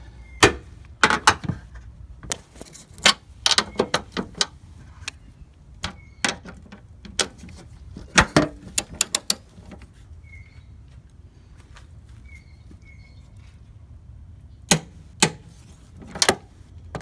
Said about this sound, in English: now I'm just torquing them down. You can hear that. That's 59 foot-pounds.